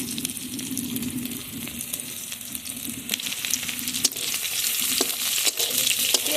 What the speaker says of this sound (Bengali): পেঁয়াজ রসুন ভালোভাবে ভেজে নেব।